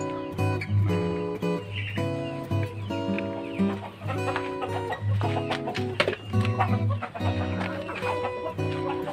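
Chickens cluck steadily while being fed papaya and boiled food scraps on a small farm, with layered clucking calls sounding close and continuous throughout.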